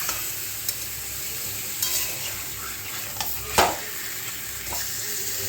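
Fish curry ingredients are sautéed and stirred in a pan in an Assamese home kitchen, a steady soft sizzle running throughout, broken by a few sharp spoon scrapes and taps against the pan.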